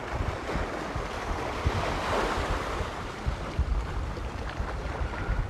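Ocean surf rolls and washes in a steady broad roar, with wind buffeting the microphone throughout and no voices.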